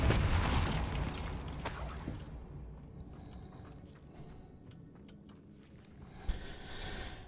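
Depulsor spell cast in the wizarding action game Hogwarts Legacy, a heavy whooshing burst that fades into a low rumbling tail with faint crackles and one small pop near the end.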